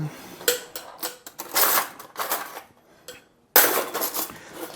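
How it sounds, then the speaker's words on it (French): Someone reopens a tin of caramel and scoops from it with a small spoon, giving bursts of metallic clatter and scraping with a short quiet gap before a final loud rattle. "on rouvre notre boîte de caramel. Je vais prendre une petite cuillère"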